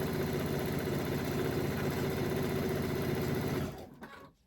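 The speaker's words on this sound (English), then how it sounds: "We are going to sew these in pairs." Sewing machine stitching quilt blocks together in pairs, a loud, fast steady mechanical whir running continuously before slowing and stopping near the end.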